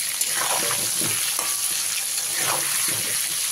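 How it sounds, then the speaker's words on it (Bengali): Potato pieces frying over a medium gas flame with turmeric powder and salt, a steady close sizzle with brief stirring scrapes and no talking. "গ্যাসের ফ্লেমটাকে মিডিয়ামে রেখে আলুগুলোকে আমি খুব ভালো করে ভেজে নেব।"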